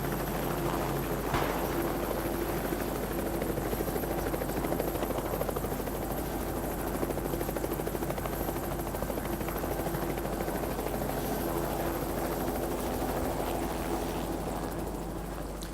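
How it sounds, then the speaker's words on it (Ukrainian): A helicopter in the Project Zomboid video game flies overhead, a steady loud rotor drone with a low throbbing hum that persists throughout with no talking. "який це вертоліт напряжний"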